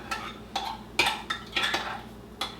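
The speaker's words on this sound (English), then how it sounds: "I'm going to mix in 1/3 a cup of low-fat cottage cheese, and then just mix the 2 ingredients together" A utensil scrapes and clinks against a bowl in about six quick, rhythmic strokes while beaten egg yolks are stirred together with low-fat cottage cheese, close up and with no talking.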